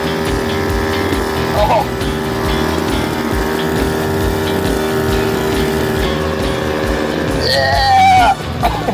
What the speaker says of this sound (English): I bypassed the lever with full throttle.